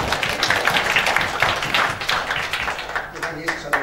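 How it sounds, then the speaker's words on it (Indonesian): A church congregation at a worship service claps hands rhythmically in a fast, steady beat, loud and close, with voices speaking and singing over the clapping. "Tepuk tangan."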